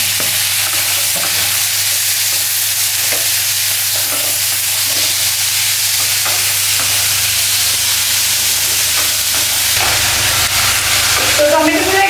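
Tomatoes and onions frying in a pan, a steady, close sizzle with occasional stirring scrapes and a low background hum, and a voice talking faintly near the end.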